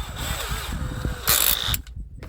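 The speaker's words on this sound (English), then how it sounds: "So I'm going to chuck that in my drill" A handheld power drill spinning a soft rivet chucked in its bit, a short buzzing whir that rises in pitch, peaks briefly and then cuts off, close and alone.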